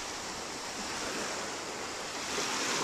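Ocean surf at a Gulf beach access on 30A, a continuous broad wash of breaking waves with some wind buffeting, steady and fairly loud with no voices.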